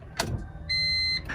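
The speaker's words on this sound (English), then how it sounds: "That's the fuel pump." An old car's electric fuel pump primes with a steady high whine lasting about half a second after a brief click, close and clear in a quiet setting.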